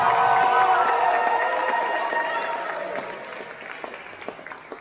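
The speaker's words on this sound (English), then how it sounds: "Give a warm round of applause" Applause and crowd noise at a ballroom dance championship final, loud at first over sustained music tones, then tapering to scattered claps.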